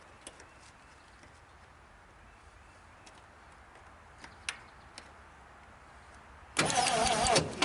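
A 1956 Studebaker Golden Hawk sits quiet with faint ticks, then abruptly cranks and fires in a loud, close engine burst during its first start.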